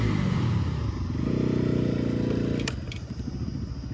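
A KTM Duke 250 motorcycle with its exhaust removed runs loud and close, a raw, rapid engine rumble that swells into a sustained rev before dropping back to a choppier idle.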